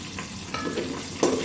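Prawn biryani ingredients and cashews fry in a pan under a steady, dense sizzle, with a spoon stirring and scraping through them in a few close strokes.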